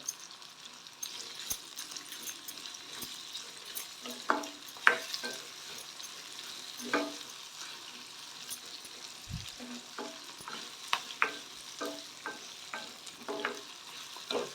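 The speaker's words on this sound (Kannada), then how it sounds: "ಇದು ಮೀಡಿಯಂ ಫ್ಲೇಮಲ್ಲಿ ಸ್ವಲ್ಪ ಫ್ರೈ ಆಗಿಬಿಡಿ ನೋಡಿ" Tomato and onion fry on a medium flame for red chutney, with a constant sizzle under repeated scraping stir strokes and occasional sharper clacks of the spoon against the pan.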